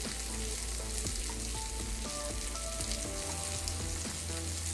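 Beyond Meat Beyond Burger patties frying in a pan, giving off a steady close sizzle with constant crackling pops and spits throughout, with no voices.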